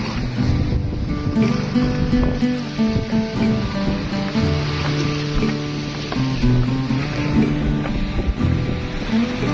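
A small boat rides big waves on the open sea near Merak harbour, with a steady, loud engine drone and a constant wash of water and wind throughout.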